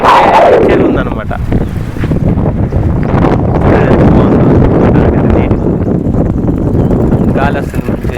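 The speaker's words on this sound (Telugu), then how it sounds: "గాలి వస్తుంది చెరువు కట్టు మీద" Steady, loud wind buffets the microphone on a pond embankment beside apartment blocks and a construction site, a continuous roar with gusty swells that lasts throughout.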